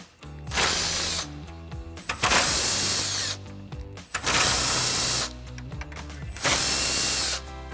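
A power drill backs out 10mm grille screws on a 2019-2021 Sierra 1500 truck. Four loud, steady whirring bursts of about a second each are separated by short pauses and faint clicks.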